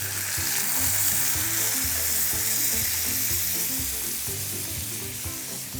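Pork belly sizzles and fries steadily in its own rendered fat for squid bulgogi, a loud, continuous crackling hiss close up with no voices over it.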